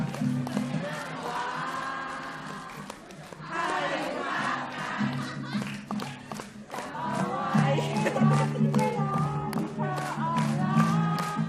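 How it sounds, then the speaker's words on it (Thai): A concert crowd sings along in unison, the voices loud and continuous with a melody carried by many people together, swelling and dipping for several seconds with no clear single voice above them. "ข้างหน้าไม่ต้องร้องมาฟังข้างหลังร้องบ้าง"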